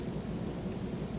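Rain and thunder in the video game Jet Force Gemini: a dense, low rumbling roar mixed with steady rain hiss, continuous and heavy across the short moment, with no voices over it.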